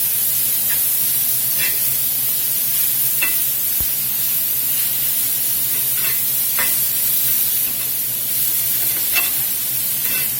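Seasoned steak for a cheesesteak sizzles in a pan, a loud, dense, continuous hiss with a few faint scraping taps of a utensil, heard alone without talk.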